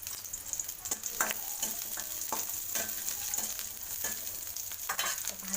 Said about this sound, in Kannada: ಈರುಳ್ಳಿನ ಸ್ವಲ್ಪ ಬಾಡಿಸ್ಕೋಬೇಕು